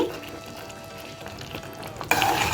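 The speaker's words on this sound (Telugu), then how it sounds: "ఈ నెయ్యి ఇదంతా కూడా మెల్ట్ అయ్యే వరకు మనం బాగా మిక్స్ చేసేసుకోవాలి" Chicken masala curry cooked with melting ghee and fried cashews, stirred in a hot pan, giving a soft steady sizzle with faint scraping, then a louder burst of frying near the end.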